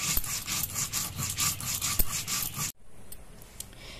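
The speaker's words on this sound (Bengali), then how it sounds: "4টে কাঁচা লঙ্কা, নুন দিয়ে আমি বেটে নিচ্ছি" Mustard seeds are ground by hand with four green chillies and salt, giving rhythmic, gritty rubbing strokes close by that stop abruptly partway through, leaving only faint scattered scrapes.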